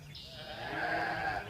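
An audience imitates sheep bleating, a crowd of voices in a drawn-out, wavering baa that swells and then holds, fairly loud and with no other talk.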